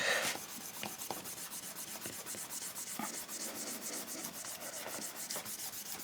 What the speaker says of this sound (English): Let me use the rust eraser on this one as well.